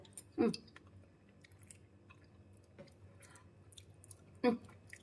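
Someone bites into fried jelawat fish and chews close to the mic, with two sharp crunchy bites and soft, quiet mouth sounds between them.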